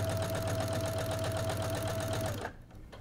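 A sewing machine stitches quilt binding, running in a fast, even, close whir that stops abruptly near the end, leaving a faint low hum.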